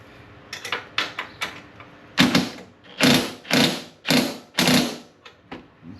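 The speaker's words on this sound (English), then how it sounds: "Got my impact on low." An impact wrench on its low setting, used while assembling the front suspension of a Hammerhead GTS 150 Platinum go-kart, fires in a run of short bursts that grow into several longer, louder whirring pulses, heard up close with no talking.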